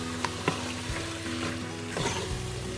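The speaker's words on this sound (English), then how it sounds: "I'm just going to give that a good stir" Close sizzling and frying as just under a kilo of lamb with spices is stirred in a hot pan, with a spoon knocking and scraping through a constant crackle.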